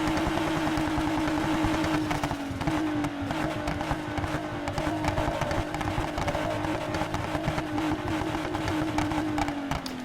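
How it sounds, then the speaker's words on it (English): A customised Polestar 1 in the racing game Need for Speed Heat revs and drones with a buzzing, steady exhaust note that rises and dips slightly, continuous and loud throughout. "Let's do the exhaust sound. Try and make the sound as different as possible."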